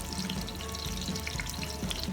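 About 1.5 onions frying in hot oil in a pan for a peas pulao, giving off a steady close sizzle with faint crackles throughout.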